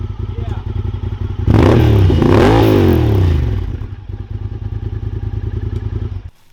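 A Honda Talon fitted with a Trinity Stage 5 exhaust idles with a deep, rapid burble, then swells into a loud rev for a couple of seconds before settling back to a lumpy idle and cutting off.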